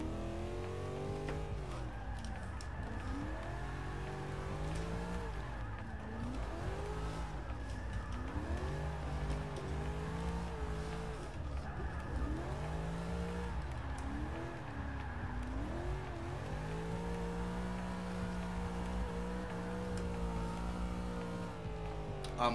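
Engine of a Holden Commodore VL driven in Forza 6 Motorsport, droning steadily with repeated rising and falling revs through gear changes and occasional tire squeal, loud and continuous over its entire length.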